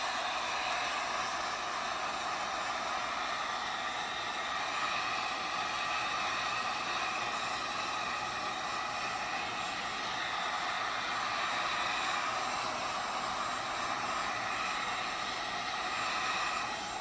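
A hair dryer blows on gesso in a craft setting, producing a continuous, even rushing hiss at moderate distance with no change in level and no voices.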